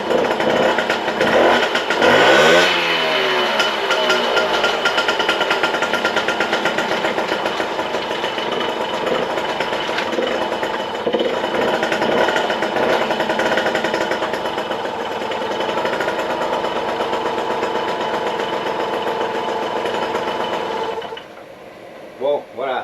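A restored 1951 motorcycle engine with its fairings refitted cranks and catches, then runs loudly and steadily with a rapid, buzzy mechanical chatter, its idle wavering slightly before it cuts off abruptly near the end.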